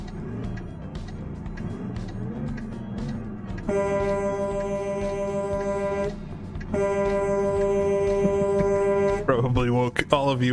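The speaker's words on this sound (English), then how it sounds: "There's the air horn." A Mack Type R truck's air horn in American Truck Simulator blares in two long, loud sustained blasts over the rumbling engine, with a speaking voice underneath.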